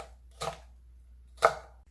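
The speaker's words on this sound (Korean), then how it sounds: "홍고추 하나 썰어줍니다." A knife slices a red chili pepper on a cutting board in a home kitchen, giving two quiet, crisp chopping taps about a second apart.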